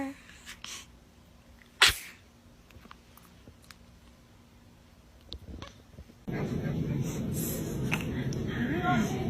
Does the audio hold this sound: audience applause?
no